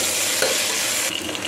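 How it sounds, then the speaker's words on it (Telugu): Green chillies, coriander and mint fry in a pan for a chicken masala curry, giving a loud, close, continuous sizzle with a brief stirring scrape partway through. "చూసారు కదా అండి, ఫ్రై అయ్యాయి."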